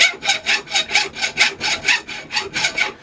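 A hand saw cuts through a cast silver piece clamped in a vise, with a steady back-and-forth rhythm of about a dozen rasping strokes, close and fairly loud with no voices.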